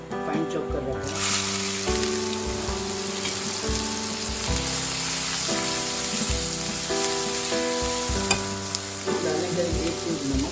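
Finely chopped onions fry with a pinch of cumin in a hot pan, giving a constant close sizzle with occasional stirring scrapes throughout.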